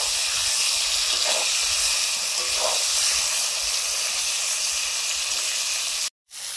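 Slices frying in hot oil give a steady, close sizzle and hiss that runs without a break, cutting out for an instant near the end.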